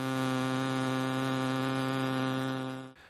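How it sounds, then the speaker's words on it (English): A simulated raw buzz of human vocal folds, with no resonance or shaping, plays as a steady, loud, harmonically rich drone for about three seconds before cutting off abruptly. "If we could isolate the raw noise from our vocal folds,"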